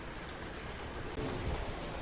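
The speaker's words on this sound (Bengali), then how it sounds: "অঝোরে বৃষ্টি হয়ে চলেছে" Steady, dense rain hisses continuously in Kolkata the day after Cyclone Remal, a broad even wash of falling water with no voices.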